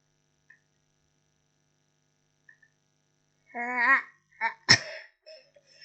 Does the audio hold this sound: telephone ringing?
no